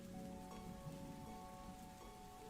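Rain patters steadily on an umbrella overhead, a dense, continuous wash of drops with soft, faint tonal music sounding underneath.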